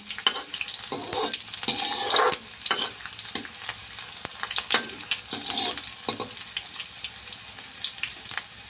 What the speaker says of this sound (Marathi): त्याच्यानंतर जाईल आपलं लसूण. आता याला हलवून घेऊ आपण चांगलं.